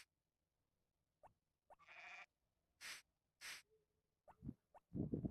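Sheep in the Harvest Moon farming video game bleat in several short, clear, separate calls, alone against quiet game background with brief soft effects between them.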